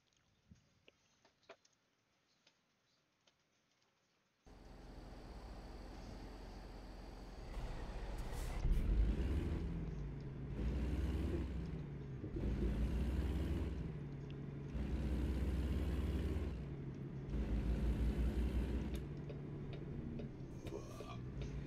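A truck engine rumbling while driving, a loud low drone that starts suddenly after quiet clicking and then swells and eases in regular waves, like repeated acceleration, with faint talk at times.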